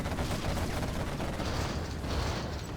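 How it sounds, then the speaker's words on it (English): Quads firing AP ammo in a video game, a continuous dense roar of rapid shots, loud and unbroken throughout, with no voices. "He's got AP ammo now for the quads."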